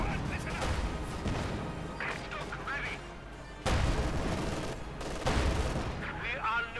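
Gunfire and artillery bombardment from a Company of Heroes 2 real-time strategy battle, with paratroopers advancing against German infantry; dense overlapping shots and heavy impacts continue throughout, with sharp louder bursts near the four- and five-second marks and a commentator talking over the action.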